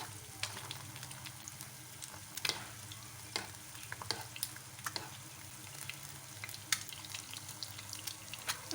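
An egg fries in hot oil in a pan for a breakfast dish, giving a steady close crackling sizzle dotted with sharp spattering pops throughout, with no talking.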